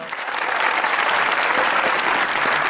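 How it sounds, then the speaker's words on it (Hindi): Studio audience applauding at a Hindi-Urdu talk show as a picture is displayed, steady dense clapping that holds at full loudness throughout, with no voices over it. "तस्वीर लगने पे भाई ताली बजा देना ताकि लगे कि आप खुश हुए"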